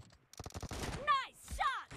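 M24 sniper rifle shots in the video game PUBG Mobile, a burst of sharp reports followed by whooshing, ringing tones, with brief gaps between.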